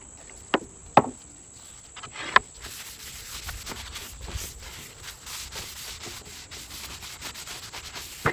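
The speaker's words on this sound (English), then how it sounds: "I'm going to sand with my orbital 120 grit" Orbital sander with 120-grit paper working wood on an oversized antique quilt rack, a steady close rubbing hiss running throughout after a few sharp knocks at the start.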